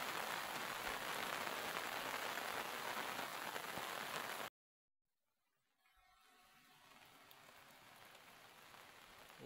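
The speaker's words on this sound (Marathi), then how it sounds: "आता माणसं शेतीतून मोकळी झालेत आणि पाऊस पण आता खूपच आहे." Heavy rain pours on a farm in the Konkan region as a dense, steady hiss that cuts out abruptly, then returns softer and slowly builds again.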